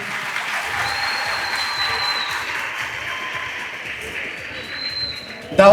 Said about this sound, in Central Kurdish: چەپڵەکانتان.